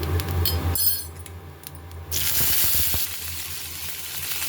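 Curry leaves, mustard seeds, fennel and urad dal tempered in hot oil for a ridge gourd dish: a sudden burst of loud, hissing sizzle and crackle partway through, close and without speech.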